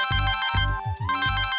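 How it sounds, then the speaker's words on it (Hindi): A phone's ringtone plays loud and close, a bright repeating melodic pattern with bass pulses, one phrase following another without any talking over it. "आ गया फोन।"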